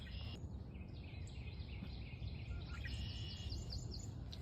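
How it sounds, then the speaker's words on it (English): At an urban wetland, a red-winged blackbird gives short trilling calls and chirps above a constant low outdoor rumble, moderately distant and without talk. "So that bird you just heard, like the trill, that is a red-winged blackbird."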